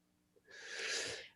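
A single sneeze from someone nearby in a quiet room, a brief intake followed by a loud hissing burst that trails off within about a second, with no talk over it.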